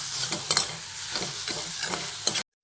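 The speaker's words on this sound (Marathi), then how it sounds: "भाज्या ना अशा परतून घ्यायच्या, चांगल्या मस्त झाल्यात भाज्या परतून अशा" Vegetables for veg momo filling are sautéed in a pan with black pepper, a continuous sizzle under rhythmic spatula scrapes and stirs that cuts off abruptly at the end.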